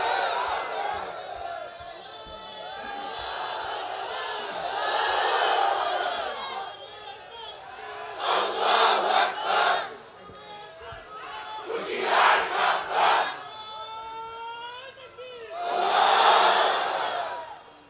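Large crowd at an Islamic sermon gathering chanting the takbir in loud rhythmic call-and-response, a lone voice calling out and the massed response swelling back several times.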